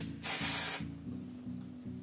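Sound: aerosol dry shampoo spray

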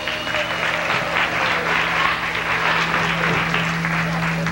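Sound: audience applause

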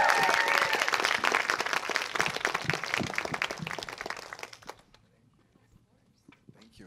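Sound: audience applause

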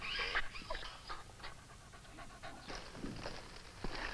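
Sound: injured dog panting

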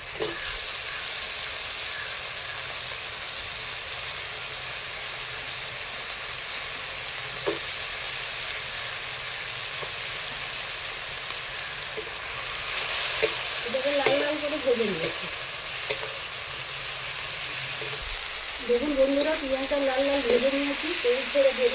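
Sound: chopped onion frying in a pan

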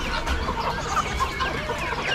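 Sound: silkie chickens clucking at an Amish animal auction

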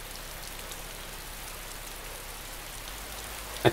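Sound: rain in the video game DayZ

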